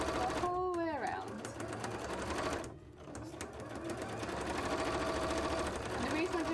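A sewing machine back-stitches through the thick sole of a handmade cosplay shoe, running in steady rapid bursts with a short pause partway through, close and fairly loud, with a voice speaking briefly over the start.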